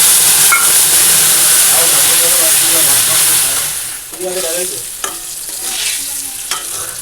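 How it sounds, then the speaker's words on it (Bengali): Whole garam masala, onion and spices fry in hot oil, a loud steady sizzle that settles lower midway, with stirring clatters and a few faint tonal sounds in the background. "এবার ফোড়নে দেবো গোটা গরম মশলা দিয়ে পেঁয়াজ মশলাটা ভেজে নিয়ে"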